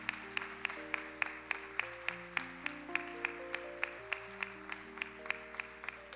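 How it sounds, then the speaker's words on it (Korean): A congregation at a church youth worship service claps in a steady, even rhythm. The sharp claps run the whole time over sustained keyboard or organ chords, with no talking. "잠깐 일어나 주시면 좀 박수로 좀 축복하고 싶습니다"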